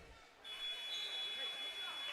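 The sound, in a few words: final buzzer at a girls' basketball game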